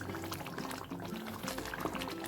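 Tamarind water simmers in a pan for tamarind rice, a continuous close bubbling and soft popping at a steady, low level.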